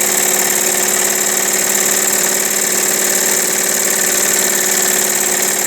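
An antique Jensen Weeden toy steam engine drives a small generator, giving a steady, dense mechanical whir and hum that holds level and close throughout with no talking.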